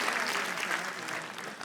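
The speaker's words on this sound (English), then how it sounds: "Please give a huge round of applause to our performance." Steady, dense applause from an audience at a preschool annual performance fills the room, continuous clapping with no gaps throughout.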